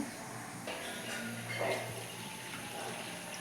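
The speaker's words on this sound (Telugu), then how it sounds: "పప్పు బాగా క్లీన్ చేసుకునేసి వాటర్ తీసుకుందాము" Steady running water pours continuously into a pot of cleaned toor dal, a faint hissing stream with a slight rise midway, no voices.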